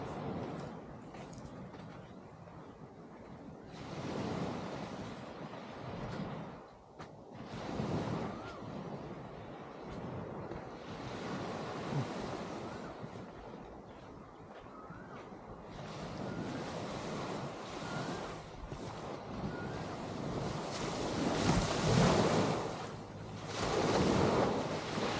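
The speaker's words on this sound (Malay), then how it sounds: "kita dengar deruan ombak" Ocean waves surge and break in a continuous roar on a beach at Setiu, Terengganu, swelling and receding in slow cycles, with gusts of wind buffeting the microphone.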